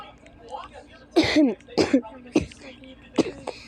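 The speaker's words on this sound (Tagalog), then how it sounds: "Inuubo ako." Several harsh coughs or throat-clearing bursts in a row, close by, with a murmur of background noise between them.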